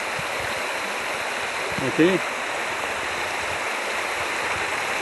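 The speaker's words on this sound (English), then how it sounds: "There is water in Dilemma Creek, but it's not much." Water flows in a low, sparse creek in rugged bush country, a steady broadband rush that stays even throughout, with a brief spoken word near the middle.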